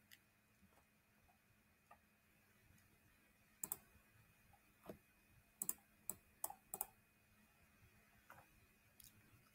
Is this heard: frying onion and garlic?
no